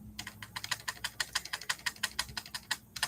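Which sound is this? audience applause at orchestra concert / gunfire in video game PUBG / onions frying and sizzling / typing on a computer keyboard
typing on a computer keyboard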